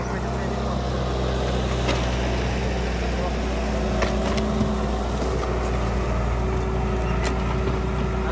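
A heavy tractor engine drones loudly and steadily throughout, with a low constant hum and mechanical whine, while a voice speaks faintly underneath.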